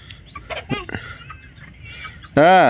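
Chickens clucking on a rural Thai farm, a few soft scattered clucks followed by one loud close squawk at the end.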